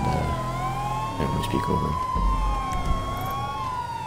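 A police siren wails up and down continuously in GTA 5, with a person speaking briefly over it.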